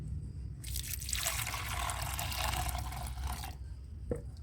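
Water pours steadily into a bowl during adenium plant care, a continuous close trickle lasting a few seconds before stopping, followed by a faint drip or clink.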